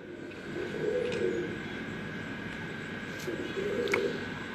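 Pure-bred pigeons coo in low, soft, repeated phrases, two clear bouts a few seconds apart, under a steady background hum with faint clicks.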